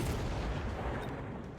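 Missile strike slamming into tanks in Mechabellum, a dense, low rumbling barrage of blasts that churns continuously and fades slightly toward the end, with no voices.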